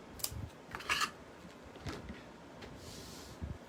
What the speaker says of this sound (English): And then I'm just going to cut it off.